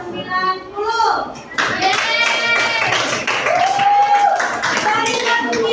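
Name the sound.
class clapping 'tepuk nilai' for a group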